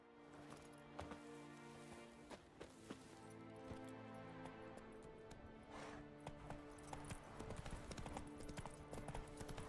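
Roach the horse galloping in The Witcher 3, a rapid continuous clip-clop of hooves on the ground throughout, backed by game music and ambient sound, fairly close.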